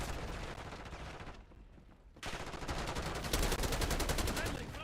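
Video game gunfire crackles in dense, continuous bursts, close and loud, with a short lull before rapid machine-gun fire resumes, and faint voices underneath.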